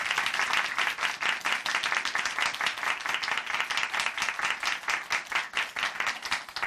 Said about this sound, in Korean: 우리 서경 선생님께 다시 한번 힘내시라고 응원의 박수 다시 한번 보내드릴게요